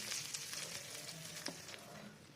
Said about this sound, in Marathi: आता एक चमचा तेल गरम करून त्याची फोडणी तयार करून घेऊया जिरे मोहरी आणि वरून फोडणी घालूया